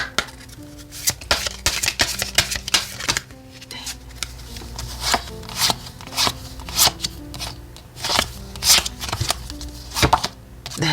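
Oracle cards are shuffled by hand in quick bursts of riffling and slapping, close and crisp, with short pauses and faint soft tones in the background.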